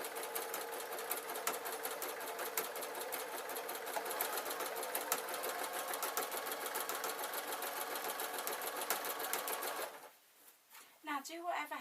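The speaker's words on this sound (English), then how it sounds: "I'm going to sew." Sewing machine stitching a quilt corner: one long, steady, close run of rapid needle clatter that stops abruptly, followed by a few faint handling sounds.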